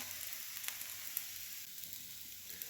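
Dosa batter sizzles on a hot pan with a soft, continuous crackling hiss and a few faint pops, fairly quiet and close, with no talk.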